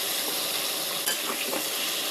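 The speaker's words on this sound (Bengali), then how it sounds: "এই যে ভালো করে এটাকে মিক্স করে ভেজে নিতে হবে" Quiet, constant sizzling of mango chutney frying in a pan, with a couple of brief scrapes from stirring.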